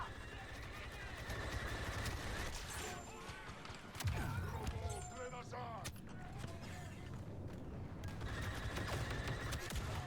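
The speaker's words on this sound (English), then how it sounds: "Heavy fire in the cantina!" Heavy blaster gunfire in the Star Wars Battlefront II game, with dense rapid shots and crashes through a cantina battle; a voice talks over the steady barrage.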